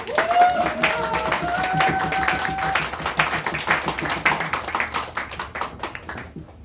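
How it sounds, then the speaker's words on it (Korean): An audience at a political talk event on prosecution reform applauds to welcome a lawmaker to the stage. The clapping is dense and loud, with a voice speaking over the start of it. "박봉계 의원님을 뜨거운 박수로 모시겠습니다."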